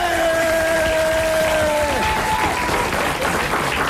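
A studio audience at a French radio comedy panel show claps steadily and loudly, with tonal voices briefly sounding over the applause as it continues.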